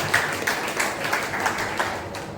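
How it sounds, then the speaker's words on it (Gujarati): A crowd applauds the collector at a community gathering in a hall, with a rhythmic patter of hands that rises and falls in even pulses, moderately loud and fairly close, continuing for a few seconds. "એમના માટે તાળી થઈ જાય."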